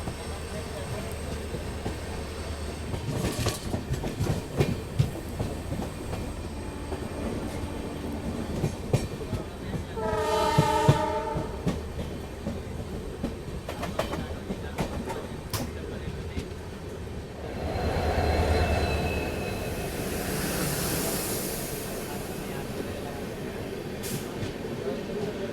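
A Mandovi Express rake passes close by, with continuous rumbling wheels and rhythmic clickety-clack, a horn-like tonal blast partway through and a rushing swell near the end; a voice talks faintly over it.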